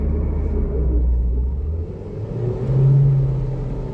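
A Ford Transit van, with a transmission fault that leaves it without third and fourth gears, engine-brakes with slipping gears: a close, continuous low engine rumble whose pitch sags and then swells, with no talking.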